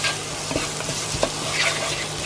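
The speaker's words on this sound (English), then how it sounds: "and we mix this." Food with adobo seasoning stirred in a pan, a continuous close sizzle broken by several brief scrapes and taps of the utensil, with no talk.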